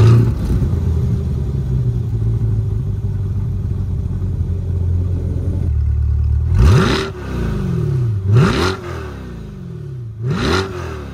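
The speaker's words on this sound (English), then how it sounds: "you have exhaust, quad exhaust pipes, real exhaust, and I will show you the sound right now" A 2022 Chevrolet Corvette C8 Stingray Z51 with quad exhaust idles with a steady burble, then blips its engine in three sharp revs that rise and fall, loud and close, with no talking.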